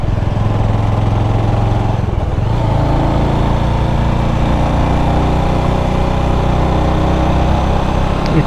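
A motorcycle engine drones steadily while riding uphill on a hill road toward Morni Hills, near and loud, with a shift in pitch partway through and no talking.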